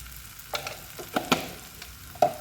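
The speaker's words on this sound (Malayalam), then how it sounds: "ഒന്ന് ഇളക്കി കൊടുക്കാം" Coriander powder, turmeric and other ground spices stirred in an egg curry pan, a soft sizzle broken by several distinct scraping strokes of a spoon close up, with no one talking.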